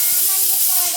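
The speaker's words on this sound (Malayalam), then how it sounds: "കുക്കർ ഒന്നും സമ്മതിക്കുന്നില്ല" Pressure cooker hissing steam in a home kitchen, a sharp continuous jet of hiss for about a second, loud and close.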